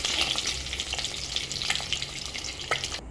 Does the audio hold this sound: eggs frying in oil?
yes